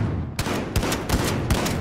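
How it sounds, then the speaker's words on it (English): Gunfire in the video game Modern Warfare: a string of sharp, loud shot bursts arriving roughly every third of a second over a steady background din, with no talking. "I hear shots."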